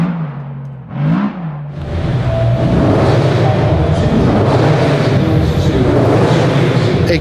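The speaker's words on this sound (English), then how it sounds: "Ignore the loud revving going on in the live car arena." Loud car engines rev continuously in a live car arena at a motor show, a dense, steady roar building after a quieter start, with rumbling and whirring throughout.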